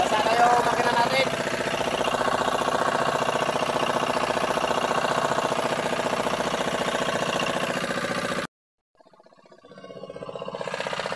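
A fishing boat engine idles in the rain, a steady close mechanical chugging drone that drops out suddenly for a moment, then returns and builds back up.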